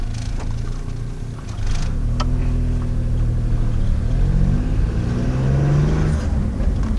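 A Geo car running on pure hydrogen fuel drives on a test run, its engine droning steadily and rising in pitch as it accelerates through the gears, fairly loud and close, with no talking.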